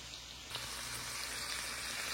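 Smoked sausage and garlic fry in hot olive oil in a skillet, giving off a soft, steady sizzle and crackle that continues unbroken at a low level throughout.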